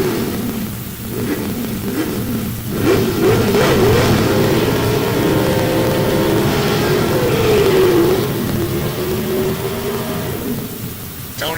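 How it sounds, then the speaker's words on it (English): A vintage gasser drag car with a 302 cubic inch small-block Chevy engine revs loudly at a dragway, the engine note rising and falling through repeated throttle blips over a rumbling background. "Tony Tagenhorst with that Ross Racing Engines 302 cubic inch small box Chevy"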